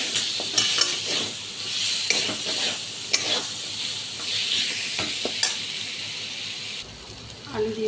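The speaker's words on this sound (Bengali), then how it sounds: "আলু দিয়ে মশলাটা কষা হয়ে গেছে" Diced potato stirred with ground spices and a splash of water in a hot pan, a steady sizzle broken by repeated scraping stirs, with faint background voices and a brief quieter moment near the end.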